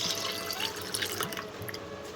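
Water drains from steamed vegetables in a steady trickle with light splashing drips, close and continuous for the whole short stretch.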